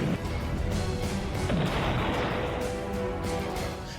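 Artillery guns fire shells in the Ukraine war, a loud, dense stretch of rumbling blasts and crackling booms that runs continuously with no pause and no talking.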